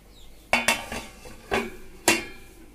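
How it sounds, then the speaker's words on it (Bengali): A few sharp metallic clanks of a lid and pot, with a pot of taro dal, spaced irregularly over a couple of seconds against a quiet kitchen background. "ঢাকনা চাপা দিয়ে দেব"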